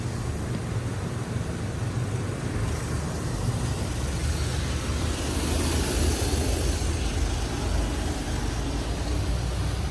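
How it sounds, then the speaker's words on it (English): A Mark VII touch-free car wash at a Circle K runs its wheel scrubbers, heard as a broad steady rush of spraying water and machinery hum from inside the bay, swelling with a brighter hiss midway. "Yeah, I think it's doing wheel scrubbers."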